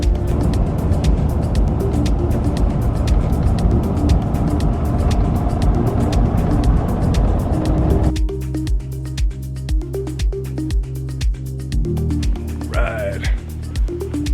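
A car drives along Dunes Drive in White Sands National Park, giving a steady close road rumble inside the vehicle. The hum changes partway through, with rhythmic low thumps replacing the smoother rumble.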